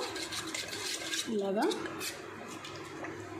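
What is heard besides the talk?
water poured and mixed into ragi flour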